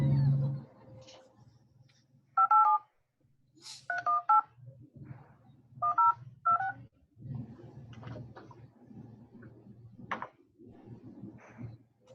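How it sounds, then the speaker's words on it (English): Telephone keypad tones beep in short bursts of two or three, clear and close, with quiet handling sounds and a low background hum between them. "I'll dial right now."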